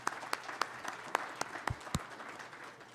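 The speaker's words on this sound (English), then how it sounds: "A round of applause for our panelists." An audience at a Surrey development industry forum applauds the panelists with a few loud, spaced claps standing out over soft background clapping.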